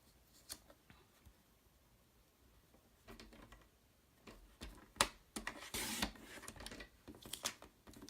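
Scissors cut paper pieces into 1-inch rectangles for a craft project: quiet, close snips and paper rustles come in scattered bursts, busier toward the end.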